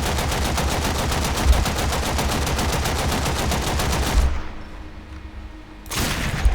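Rapid automatic gunfire in the video game Warframe, loud continuous bursts of shots that stop briefly before the firing resumes.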